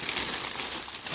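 A plastic bag from an unboxed jacket shipped from China crinkles and rustles close up in a steady, continuous run of crackling.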